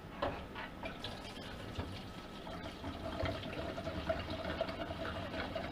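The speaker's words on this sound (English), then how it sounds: "Let me pour some diesel in here first." Diesel fuel poured into the tank of a Vevor diesel heater, a faint, steady trickle and splash of liquid with small drips, lasting several seconds.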